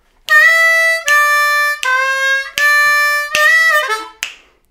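Harmonica lick on a D harmonica, six bright reedy notes in even quarter-note pulses with short breaks, played alone and close, closing on a quick falling bend.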